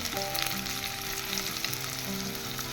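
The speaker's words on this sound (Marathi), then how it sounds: "आतां हांव पिव घालता." Onion sizzling loudly in hot oil for a Goan catfish ambot tik, a dense continuous crackle and hiss heard up close, with no voices.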